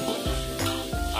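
Beef, tripe and tendon fry in a little oil in a wok for Pontianak-style fried kway teow, with a loud continuous sizzle and three quick rhythmic scrapes of the spatula close by.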